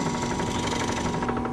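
Power drill boring holes into wood for a very small boat in a home shop, a steady continuous whine with a buzzing harmonic drone throughout, fairly loud and close, no talking.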